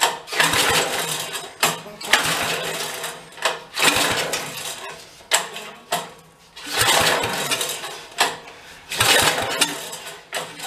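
Old Batmobile engine, left sitting under a tree for 40 years, revving at full throttle in loud, uneven bursts that surge and drop repeatedly, rough and sputtering.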